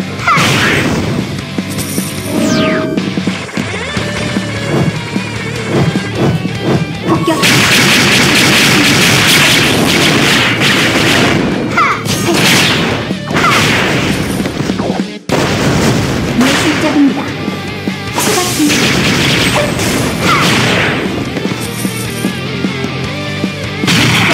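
Artillery dash attacks in the Closers video game, a loud, dense run of booming hits, crashes and mechanical clanks layered over music, almost without a break for about twenty-four seconds.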